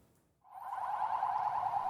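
An ambulance siren rises in and holds a steady, wailing electronic tone, somewhat distant, racing to casualties of exploding pagers; nobody speaks.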